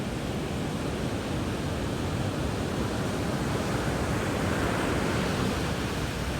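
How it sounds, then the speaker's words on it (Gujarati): Rough monsoon sea waves break in a dense, unbroken roar along the coast during heavy rain, a loud and steady wash of water with no voices. "અને આવી રીતના ભાઈ મોજા ભાંગે છે"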